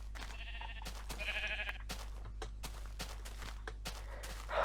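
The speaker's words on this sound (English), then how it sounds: "Oh yeah, quite a few sheep here actually." Blocky sheep in Minecraft bleat a few times in short, thin calls, separated by brief quiet gaps and soft game sounds, with no talking over them.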